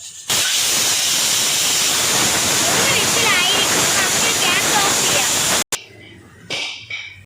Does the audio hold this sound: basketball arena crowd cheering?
no